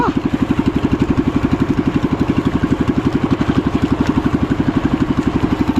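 A small fishing boat motor chugs steadily in a fast, even putter, close and loud throughout with no voices.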